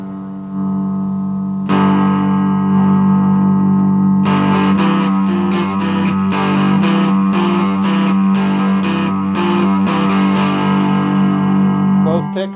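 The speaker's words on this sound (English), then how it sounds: "This Psyco Knob has four levels of distortion, so we'll go to the first level here." Distorted cigar box guitar played through a Psyco Knob pedal on its first distortion level, both pickups on, giving loud sustained chords with rhythmic strummed bursts, steady and close throughout.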